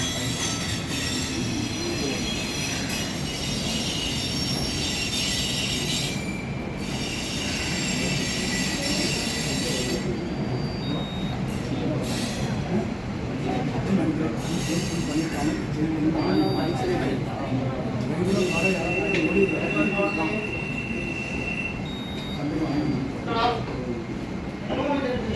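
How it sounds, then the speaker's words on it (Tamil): A train rolls past on railway tracks near a signal control room, a long loud rumble with squealing wheels and clattering that swells toward the middle, with people talking over it. "ட்ரெயின் போயிட்டு"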